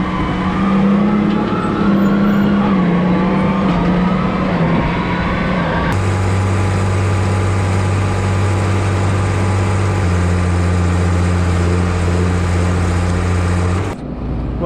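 A Versatile MX285 tractor engine runs steadily while unloading a manure tank from a lagoon, a loud continuous drone that deepens partway through into a lower, heavier hum before dropping away at the end.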